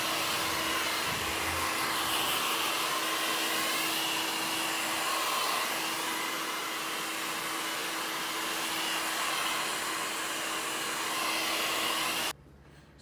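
A handheld hair dryer blows steadily on wavy hair during a salon styling, a loud, continuous close whoosh that holds for about twelve seconds before cutting off abruptly near the end.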